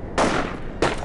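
Two loud, close bursts of gunfire from the Company of Heroes video game, the first sustained for roughly half a second, then a brief gap before a second harsh burst, with no voices.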